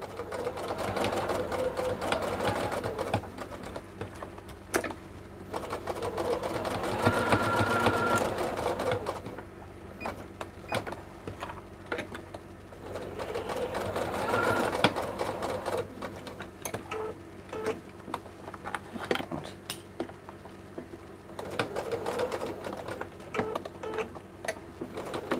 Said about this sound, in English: I always just take a stitch at a time, and I lift the presser foot up with a needle in the down position.